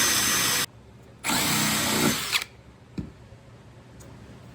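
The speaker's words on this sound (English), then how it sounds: "drill that out like that, and it makes a nice hole there that I can screw into, and it's not going to split the wood" A power drill bores a hole into a wooden frame in a loud whirring burst, stops, then whirs again for about a second before falling quiet, followed by a few faint clicks and knocks.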